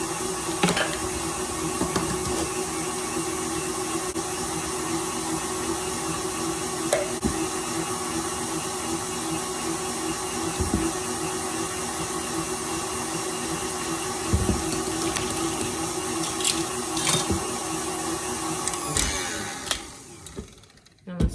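Electric hand mixer running steadily as egg yolks and vanilla are beaten into cream for carrot cake bars, a continuous whirring motor drone with brief clunks, stopping near the end.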